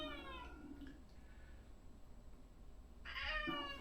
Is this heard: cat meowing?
yes